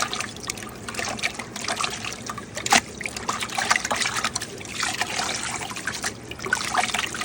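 Water swished and sloshed inside a DIY internal aquarium canister filter, a close, continuous trickling and splashing with uneven surges and a sharp knock partway through.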